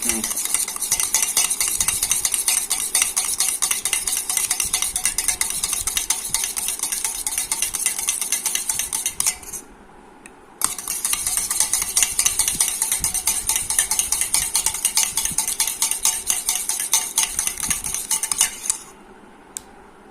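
A spoon stirs an egg hair pack in a bowl, making quick, rhythmic scraping clinks at close range that go on steadily, with two short pauses near ten and nineteen seconds.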